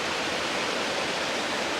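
Algar waterfall in the mountains of Spain gives a steady, dense rush of falling water, close and loud, unbroken throughout with no voices.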